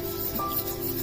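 A spoon works through cookie batter of jaggery and egg in a bowl, giving a short, soft rubbing scrape, close and continuous with no talk.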